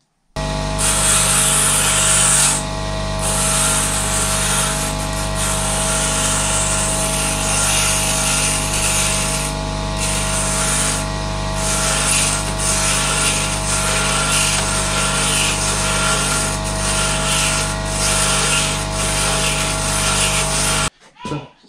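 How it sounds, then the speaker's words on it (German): A bench grinder runs steadily with a constant motor whine while a wooden joystick part is sanded against it, a continuous abrasive rasp lasting throughout before stopping abruptly. "Zum Schleifen gehe ich diesmal am Schleifbock."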